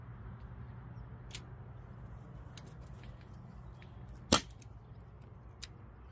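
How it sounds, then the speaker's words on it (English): A cheap BB gun fires at a target outdoors, giving a few sharp, isolated snaps spaced seconds apart over a steady low background hum, with one shot much louder than the others. "I'm gonna shoot at that again actually"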